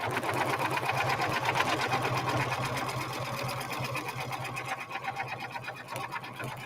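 An embroidery machine stitching layers onto a sweatshirt gives a fast, steady mechanical needle chatter with a droning motor hum, close and continuous throughout.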